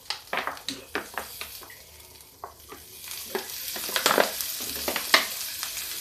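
Oil sizzles loudly in a frying pan with potatoes, with repeated stirring scrapes and crackling bursts close by and no talk.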